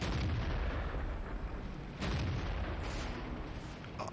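Tank cannon blasts firing HEAT ammunition in World of Tanks, with a heavy booming shot at the start and another around two seconds, each followed by a long rumbling roar, loud and dense with no speech.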